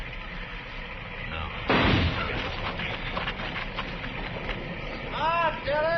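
A single sharp gunshot cracks out in an old-time radio drama, loud and close, with a sustained echoing tail; a voice speaks briefly before it.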